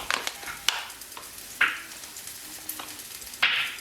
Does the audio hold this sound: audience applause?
no